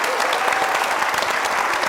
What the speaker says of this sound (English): let's give Pamela another big round of applause